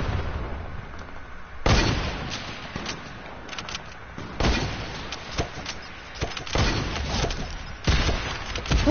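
Sniper rifle shots and other gunfire in a video game, several sharp bursts spaced irregularly at moderate volume with quieter background noise between them.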